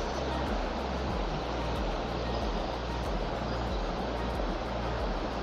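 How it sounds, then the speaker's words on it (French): Small cascades along a forest trail on the Brague path on the Côte d'Azur rush and roar steadily, a dense, loud, unbroken wash of falling water without voices. "On a les petites cascades, très très jolies."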